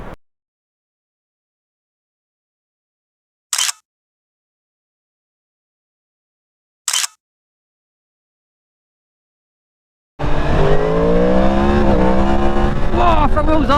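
A motorcycle engine, from a BMW S1000XR or Yamaha MT10, revs hard and accelerates as the front wheel lifts into a wheelie. It comes in loud and sustained after long silence broken by two short bursts.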